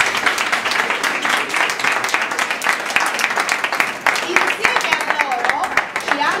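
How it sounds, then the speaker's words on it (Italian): Dense applause from an audience at a school inauguration, many hands clapping loudly and continuously for several seconds with crisp individual claps standing out and a voice occasionally heard underneath. "chiedo un applauso per loro"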